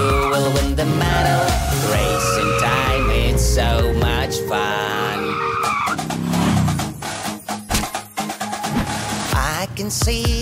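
Cartoon race cars in a children's race, with loud revving engines, squealing tyres and whooshing skids crowding together, then a burst of sharp, choppy effects near the end.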